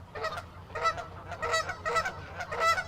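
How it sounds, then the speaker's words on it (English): Thousands of geese gathered on a beach honk in repeated overlapping bursts, a raucous chorus of loud calls coming in uneven pulses with steady low background noise. "We got nothing but thousands of geese on the beach."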